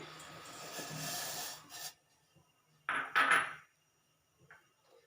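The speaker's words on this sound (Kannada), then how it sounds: "1 ಕಪ್ಪು ಸಕ್ಕರೆ ಹಾಕ್ತಾ ಇದ್ದೇನೆ" A cup of sugar tipped into a pot of milk and water for a custard dessert, heard as two short gritty rushes of granules pouring and scraping, the first longer, with faint clinks after.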